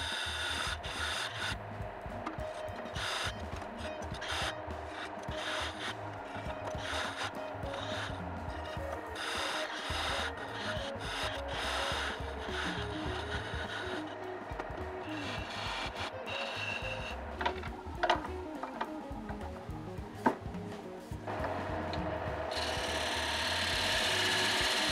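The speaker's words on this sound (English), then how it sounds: "I'll turn it down with a parting tool" Steady scraping and rubbing of a parting tool cutting teak on a wood lathe, a continuous close, fairly quiet grinding texture with small clicks, building slightly louder toward the end.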